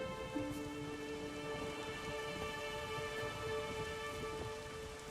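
Steady rain pours through a storm in The Witcher 3, a constant hiss at low level with sustained droning tones underneath, no voices present.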